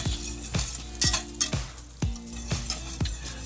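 Unsalted butter sizzles softly in a pan for a roux, with a spoon tapping and scraping the pan in a regular rhythm about twice a second.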